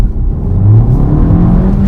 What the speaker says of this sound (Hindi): वेल इंजन चला के दिखाता हूँ मैं आपको